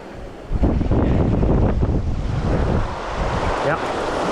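Wind gusting across an open beach while fishing at Preston Beach, a steady roaring rush with surf in the background, loud and close against the microphone.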